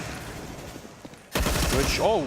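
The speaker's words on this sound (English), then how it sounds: "The first volley connected, the second one took him out." Rapid gunfire volleys ring out in a Counter-Strike esports match, a dense burst of loud shots starting abruptly after a quieter stretch, with a commentator's excited voice over the firing.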